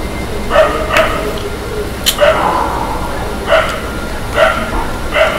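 A dog outside at night barks several times at irregular intervals, somewhat distant and in the background, over a steady low hum.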